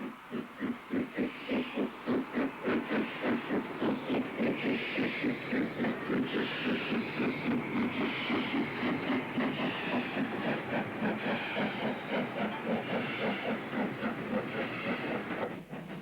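A steam locomotive labors slowly uphill unassisted on the Bromsgrove incline, with steady, rhythmic exhaust chuffs and a hissing roar throughout, heavy and continuous.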